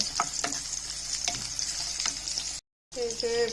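Chopped onion sizzles steadily in a hot pan, with scraping stir strokes at intervals. A brief silent gap comes near the end, then the sizzle resumes close and clear.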